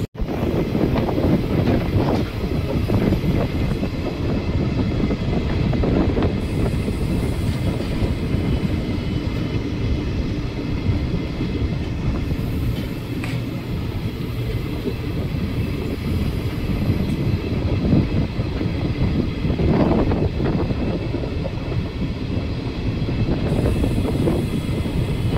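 Near Guntakal Junction, a train's long, loud, steady roar and rush of wind from inside a moving carriage persists throughout, with occasional rattles and no voices.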